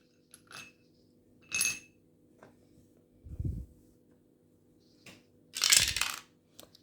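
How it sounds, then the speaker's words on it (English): A four-sided die is rolled during a Scrabble game, making several short, sharp clattering bursts spread across the clip, alternating with quiet gaps and one low thud. "Okay, so we'll roll the dice."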